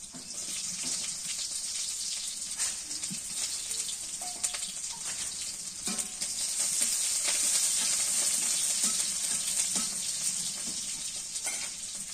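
Crushed garlic and green chilli frying in a pan, a steady hissing sizzle with occasional small clicks and pops, swelling a little louder partway through, close up and without talk.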